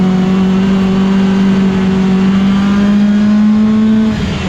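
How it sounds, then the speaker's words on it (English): Race car at River City Speedway, a loud, sustained engine drone held at a steady pitch with strong harmonic whine, heard close for several seconds before the tone dips and shifts near the end; no talking. "just listen to the car."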